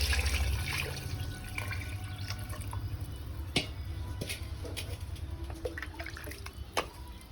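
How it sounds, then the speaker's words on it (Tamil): Water is poured into a pot of sautéed green chilli and mint for home-made kuska biryani, a steady close splashing and trickling run with a few brief clinks and drips, no talking. "இப்போ தண்ணி ஊற்றிக்கலாம்."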